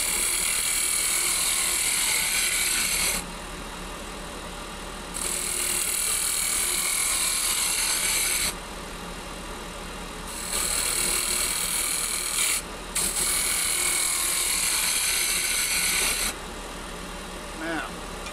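Wooden chess pawn spinning on a lathe spindle, a steady high whirring hum that cuts in and out in long bursts over roughly eighteen seconds, close and fairly loud.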